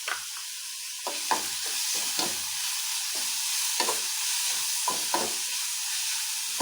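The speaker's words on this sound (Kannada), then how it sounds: "ಜಲ್ದಿ ಬೇಗ ಈರುಳ್ಳಿ ಎಲ್ಲ ಫ್ರೈ ಆಗುತ್ತೆ" Onions sizzle in a hot pan with salt added, giving a steady bright frying hiss broken by repeated short scraping stir strokes. No one speaks.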